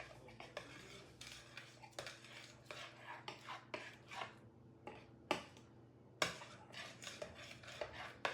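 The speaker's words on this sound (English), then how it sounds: "And then I'm going to take a knife and just kind of swirl that around." A knife swirling through honeybun cake batter in a pan gives a run of close, irregular scrapes, taps and clinks against the dish, with quiet gaps between.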